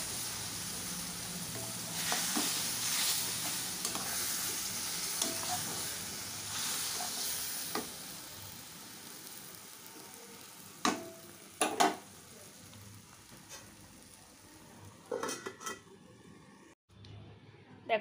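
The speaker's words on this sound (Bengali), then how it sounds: "সুজিটাও বেশ একটু লাল লাল করে তেলের মধ্যে একটু ভেজে নিলাম" Semolina fries in oil in a pan with a soft, steady sizzle and hiss, broken by a few sharp clinks and scrapes toward the end, and no talking heard.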